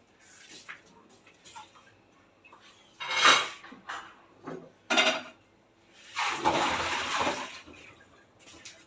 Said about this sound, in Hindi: ये देखिए दोबारा मैं इसको धो रही हूँ ताकि ये बिल्कुल साफ़ हो जाए।